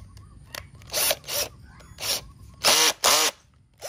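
A power drill bores into a ceramic teacup for a bonsai set, with water added to spare the bit; several short whirring bursts of drilling separated by pauses, close and moderately loud.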